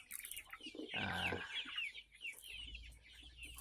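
Free-range village chickens cluck softly while pecking at water spinach, with one louder burst of clucking in the middle and quieter clucks around it, no talk.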